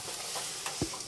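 Mutton frying in a pan for mutton chukka, a quiet continuous sizzle with a few soft stirring clinks and one low thud, close and faint.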